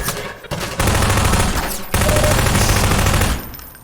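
Loud, sustained automatic gunfire in the video game Half-Life 2, rapid overlapping shots with two brief pauses before trailing off.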